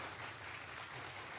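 Soft, distant applause from an audience, a steady wash of many hands clapping at low level with no distinct individual claps, honoring a guest on a radio show.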